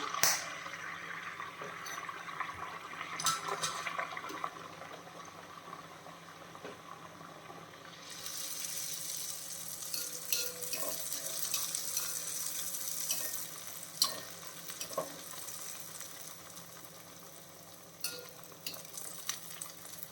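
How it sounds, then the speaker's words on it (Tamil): Poori dough frying in very hot oil gives a steady, dense sizzle and bubbling that flares brighter midway and carries on without any voices. "பொரிச்சு எடுத்துகிட்டு வேண்டியது எண்ணெய் வந்து நல்லா சூடாகிடுச்சு"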